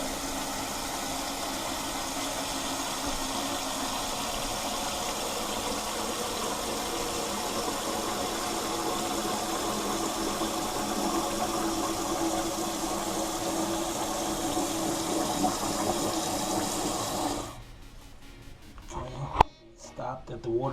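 Water rushing steadily into a toilet tank through a Fluidmaster 400A fill valve after the supply is turned back on, a continuous close hiss and flow that cuts off abruptly near the end, followed by a few small clicks and knocks.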